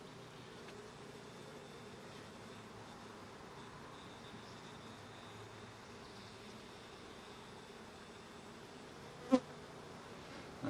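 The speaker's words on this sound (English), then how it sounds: "Now there's a ton of bees in here." Honey bees in an open hive frame, a colony almost filling eight frames, hum in a faint, steady drone, with a single sharp click near the end.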